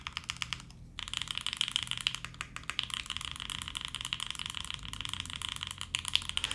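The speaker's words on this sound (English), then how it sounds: "Let's just type in this one here." Keystrokes on a custom mechanical keyboard with lubed switches, a steady stream of close, crisp clacks typed in quick irregular bursts with a brief pause near the start.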